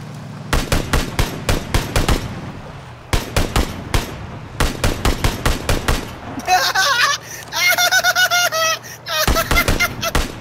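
Rapid bursts of automatic gunfire in the video game PUBG, several clusters of sharp shots separated by short pauses, with other game sounds near the end.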